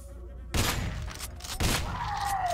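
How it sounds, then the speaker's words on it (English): Two loud shotgun blasts in the video game Hyperviolent, about a second apart, each with a sharp crack and short ringing tail, followed by a descending whine. "Oh, with a shotgun, you can shoot through walls."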